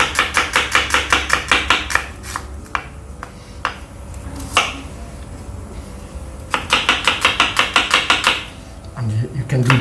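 A very sharp kitchen knife chops quickly on a cutting board while preparing traditional clear chicken soup, with rapid even bursts of knocks, a sparser pause in the middle, and another fast run of chopping near the end.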